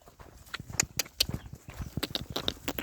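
Hooves clop on hard ground in quick, uneven steps, several animals walking close by.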